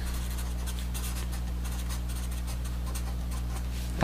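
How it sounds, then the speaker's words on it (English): Pen or chalk scratches out lecture notes in a busy, steady run of short strokes over a constant low electrical hum, with no one speaking. "let me write that out"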